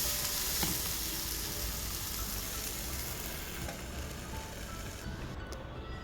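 A vegetable uthappam cooked with ghee sizzles steadily and loudly in a hot pan as it is flipped, with a few faint scraping clicks from the turner over the continuous frying hiss.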